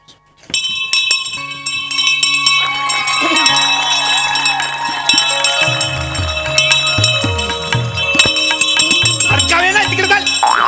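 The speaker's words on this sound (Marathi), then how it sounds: "मी अशीच वाजवतो घंटा" A hand bell rung to start a play at a theatre performance gives a steady, bright, metallic ringing that continues throughout, while voices and a musical melody run beneath it.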